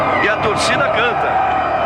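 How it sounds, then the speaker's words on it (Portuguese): Crowd of Brazilian fans at the Brazilian Grand Prix singing and chanting for Ayrton Senna, a loud, continuous mass of voices with rising melodic lines and a brief burst of cheering near the start. "A torcida canta."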